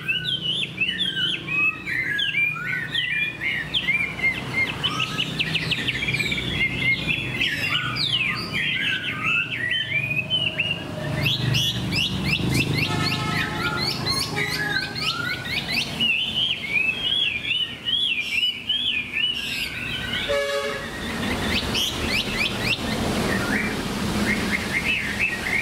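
Chinese hwamei (họa mi) songbird, a tame bird with a fanned tail, singing close and loud in a continuous, varied stream of rapid chirps, whistles and trills with no talk.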